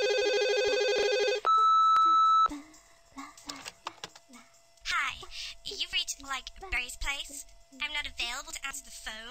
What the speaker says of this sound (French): le téléphone sonne mais elle l'entend pas